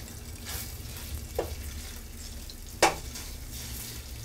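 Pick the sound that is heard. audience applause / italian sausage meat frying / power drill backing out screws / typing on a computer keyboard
italian sausage meat frying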